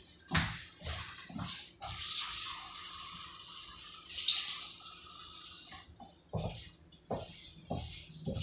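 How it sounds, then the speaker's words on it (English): Water pouring from a tap to fill a container halfway, with a hissing, splashing stream that starts and stops in short bursts, fairly close. "I'm going to fill up my container halfway."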